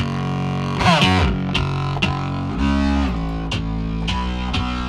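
A thick, heavily distorted synth tone with fatness and color turned almost fully up plays sustained chords with gliding pitch shifts, its gritty saturated buzz filling the sound.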